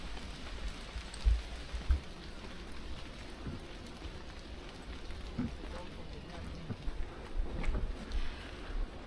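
Steady rain patters on surfaces around a car on a morning drive toward Gilgit in heavy weather, a continuous soft hiss with occasional louder thumps and drops, fairly close.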